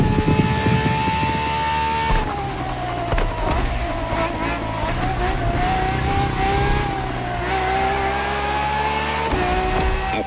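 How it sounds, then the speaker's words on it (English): A Ferrari racing car in The Crew Motorfest drives with a steady, loud engine whine, its pitch rising and dipping through gear changes, and tire noise comes through under the engine. "Ferrari so extreme that it can never be driven on the road, nor qualify for any kind of official competition. but it's still a racing machine through and through."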